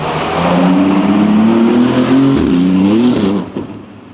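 A loud, raw-sounding Porsche GT2RS engine with straight-piped exhaust revs hard, its pitch climbing and holding before dropping away abruptly near the end.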